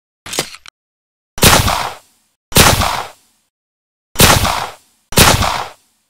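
Five loud, close pistol gunshot effects crack out one by one with gaps of about a second between them, each a sharp bang trailing off briefly, with no talk.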